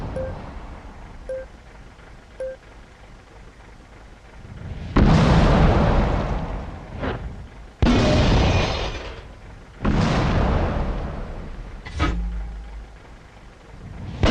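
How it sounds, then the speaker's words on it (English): Tank cannon shots in the World of Tanks video game, several loud booming blasts spaced a few seconds apart, each with a rumbling decay over quiet background noise. "So even though I can't see him, I can shoot him."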